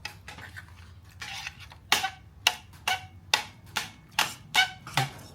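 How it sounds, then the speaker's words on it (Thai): A young child plays with a spoon, tapping it in a loose rhythm of about eight sharp, close metallic clinks against a dish, with softer rattles in between. "ตอนนี้เริ่มเล่นช้อนแล้วครับ"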